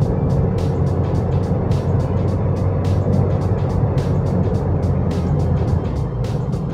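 Toyota Vios 2010 ex-taxi car engine pulling in third gear around 3000 RPM, a steady continuous drone heard from inside the cabin, with regular faint ticking clicks throughout and no talk.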